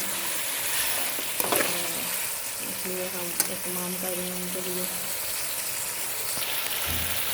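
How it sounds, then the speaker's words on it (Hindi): Tomatoes with garlic-ginger paste and green chilli paste frying in a pan for Lahori-style chicken karahi, giving a close, steady sizzle with occasional stirring clatter while someone talks over it. "टमाटर डाला है और लहसुन अदरक का पेस्ट और सब्ज़ मिर्च का पेस्ट डाला। इसे हम अच्छी तरह भूनेंगे।"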